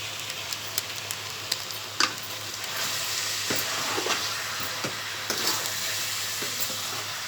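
Raw masala sizzles in a hot pan while a spoon stirs and scrapes through it, giving steady close frying hiss punctuated by irregular clinks and knocks.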